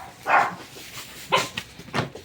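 Pet dogs bark in short sharp bursts, three distinct yaps spaced about a second apart, close and fairly loud, with faint outdoor background between them.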